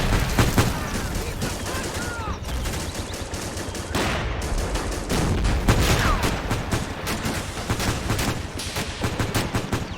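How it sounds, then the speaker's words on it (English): Sustained machine gun and rifle fire from a WWII Saipan battle in Men of War: Assault Squad 2, dense rapid bursts layered over continuous combat noise, loud and close throughout. "But the machine guns still function."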